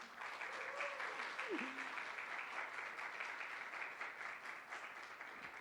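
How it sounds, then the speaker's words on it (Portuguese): Faint, steady applause from an audience at an education event welcoming a guest, continuous clapping heard from a distance with a murmur of voices underneath. "palmas para ela"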